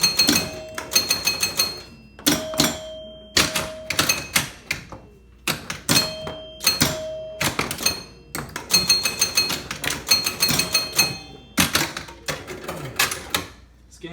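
A Gulfstream pinball machine in play: sharp flipper clacks and ball knocks come in dense, rapid bursts, with loud electronic chimes and sustained beeping tones between them, all close and bright.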